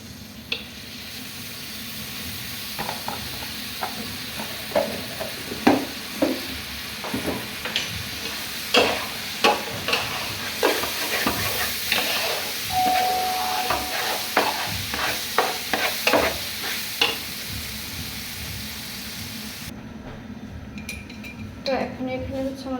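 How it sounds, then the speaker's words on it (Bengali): Beef cooking in a pot with ginger and garlic paste, stirred steadily by a spoon scraping and clinking against metal over a low sizzle, the scrapes coming in bursts for over twenty seconds before a brief quieter stretch near the end. "আদা বাটা দিয়ে দিলাম 3 চামচ।"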